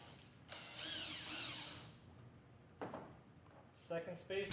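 A powered screwdriver whirs briefly, driving a screw through tape into a drop-in bedliner on a 2015 Ford F-150, followed by short mechanical clicks and rattles.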